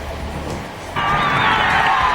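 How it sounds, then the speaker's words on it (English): A large roadside crowd at the 1998 Tour of Flanders finish breaks into a sudden swelling roar of cheering and whistles, loud and sustained, with commentary faintly beneath. "But there's the big crowd."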